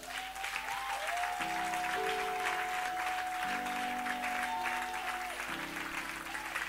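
A church congregation claps during a sermon, the applause dense and steady throughout over sustained musical chords underneath.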